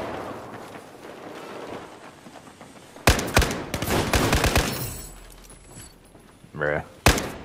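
Gunfire in the video game Battlefield 2042, with a loud burst of rapid shots midway and a couple of sharp single blasts near the end, while players talk over the action.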